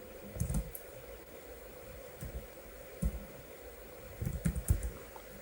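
Typing on a computer keyboard while naming a saved effects preset in Adobe Premiere Pro: a few short bursts of close, quick key clicks separated by quiet pauses, no talking.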